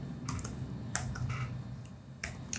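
Quick bursts of keystrokes on a computer keyboard while C code is typed, short clicky clusters separated by brief pauses, close and fairly quiet.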